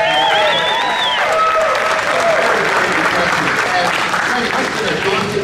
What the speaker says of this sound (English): Can we give a round of applause to Greg Brady for the work he did designing